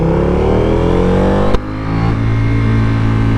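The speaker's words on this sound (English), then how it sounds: "pit lane limiter." 2024 KTM RC 8C motorcycle engine held on the pit lane limiter, a loud, close, steady buzzing drone. A sharp cut midway marks the limiter bouncing before the engine note resumes, slightly lower.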